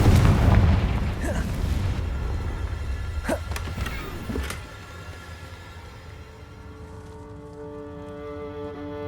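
A Confringo blasting spell explodes in the Hogwarts Legacy video game with a loud low boom, followed by sharp crackling bursts and a fading rumble as quieter game ambience settles in.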